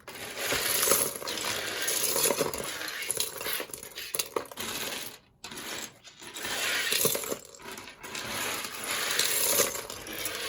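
Loose plastic LEGO Star Wars minifigure pieces scooped and poured back into a bin, a dense continuous clatter and rattle of many small parts with brief pauses between scoops.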